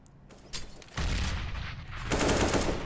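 Gunfire during an esports shooter match at a Mongolian qualifier: a few sharp shots lead into a sustained, loud barrage of rapid fire that swells toward the end, with no voices over it.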